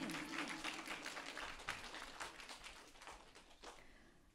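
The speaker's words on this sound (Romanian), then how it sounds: "Aplauze pentru Justin!" Audience applause at a children's instrumental spring concert, a steady wash of many hands clapping at a moderate distance that gradually thins out toward the end.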